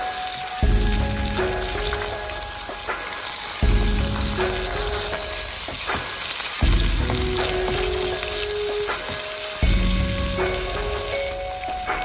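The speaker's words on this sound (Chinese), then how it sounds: "把葱姜蒜倒入锅中，再快速的翻炒，炒出它的香味" Scallion, ginger and garlic are stir-fried in a wok beside a pan-fried yellow croaker, giving steady loud sizzling broken by repeated metallic clanks and scrapes of the spatula every few seconds.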